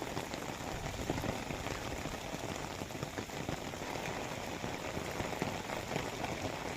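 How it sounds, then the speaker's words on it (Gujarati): Heavy monsoon rain falls at night in Dwarka with strong wind, a dense, steady roar of drops drumming on surfaces without a break. "રાત્રિના સમયે ભારે પવન અને વીજળી સાથે વરસાદ વરસતો રહ્યો"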